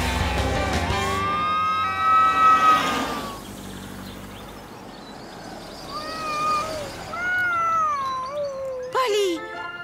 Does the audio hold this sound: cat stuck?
yes